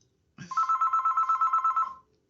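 A telephone rings once, a single close, loud electronic trill of rapid pulsing beeps lasting about a second and a half, then silence.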